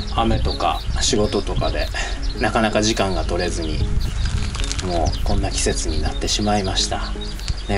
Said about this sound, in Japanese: 後ろでヒバリが鳴いてるのが聞こえますでしょうかね。